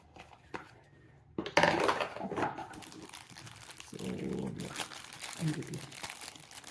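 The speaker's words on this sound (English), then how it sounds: "Now we will just unwrap the camera." A Qubo dashcam being unwrapped from its packaging, close crinkling and rustling of plastic wrap in bursts with soft handling knocks, starting after a quiet moment.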